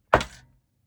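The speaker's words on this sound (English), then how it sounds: "you can also take a hammer, and excuse the noise, and bang it" A single hard thunk of a hammer driving a staple down into a journal, close and loud, with a short decaying ring afterward and nothing else around it.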